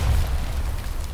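A grenade goes off in the Hell Let Loose shooter game, a deep, rumbling boom that fills the short moment and fades without any talking.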